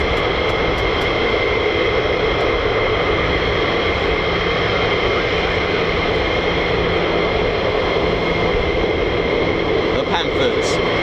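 F-15E Strike Eagle jets of the US Air Force taking off on a mass launch, a loud, steady roar of jet engines that fills the whole stretch without letup.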